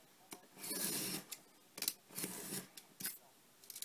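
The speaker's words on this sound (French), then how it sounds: "Donc je vais couper un petit peu plus, je vais couper à peu près 7-8 mm." Scissors snip through paper for a handmade mini-album in several quiet, close bursts, each a short rasping cut separated by brief pauses.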